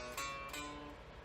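A quiet, thin electric guitar phrase picked without amplification, a few plucked notes ringing briefly up close.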